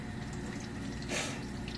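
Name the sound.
rinsing hand under running tap water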